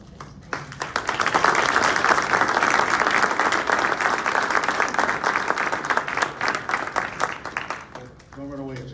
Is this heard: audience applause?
yes